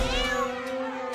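A cat in a video game lets out a single drawn-out meow, clear and fairly close, fading over about a second.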